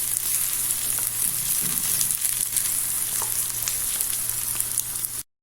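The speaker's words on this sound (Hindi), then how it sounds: "इसको कुछ देर के लिए फ्राई कर लेंगे ताकि हमारे पास ये जो हमने हरी प्याज और हरी मिर्च डाली है वो भी कुछ देर के लिए पक जाए" Green onion and green chili sizzling steadily in a hot pan with oil, a continuous close frying hiss with a faint low hum beneath, no voices.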